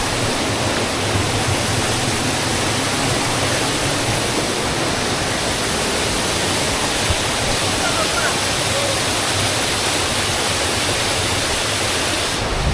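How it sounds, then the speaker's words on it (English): A waterfall in Tobago pours steadily during rain, making a loud, dense, unbroken roar that fills the whole stretch with nothing standing out above it. "Nice view of the waterfall."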